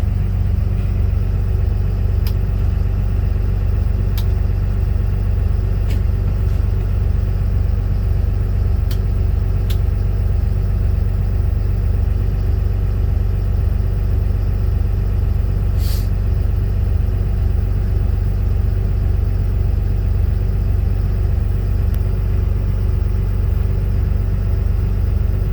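Freightliner M2 truck engine idling steadily while its air pressure builds, a loud continuous low rumble with a regular pulsing throb and a few faint clicks on top.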